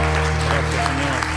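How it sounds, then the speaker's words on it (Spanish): A church congregation gives the Lord a loud round of applause during a worship service. The clapping is a dense, steady wash lasting the whole moment, with sustained musical tones running underneath. "vamos a dar un fuerte aplauso al Señor"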